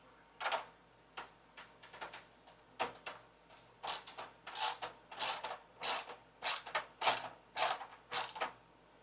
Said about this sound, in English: We gotta screw it down now.